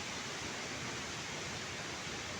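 Wachirathan waterfall at Doi Inthanon, Chiang Mai: a steady, dense roar of falling water fills the air evenly, constant and broadband with no voices.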